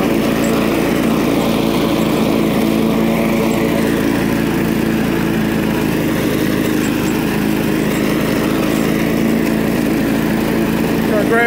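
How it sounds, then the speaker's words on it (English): A lawn mower running while cutting grass, its engine drone loud, close and steady, with no break in the motor hum from start to finish. "Cut grass every day."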